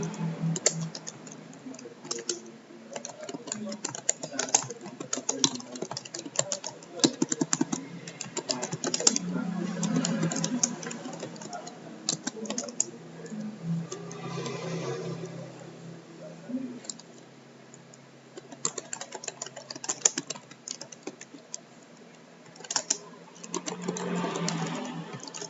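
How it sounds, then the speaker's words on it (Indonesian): Computer keyboard typing while formatting a document in a word processor, a steady run of close, quick key clicks with short pauses, no talking over it. "kali ini akan saya coba untuk mengetik"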